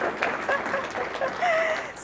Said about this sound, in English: Oh yeah, that deserves a clap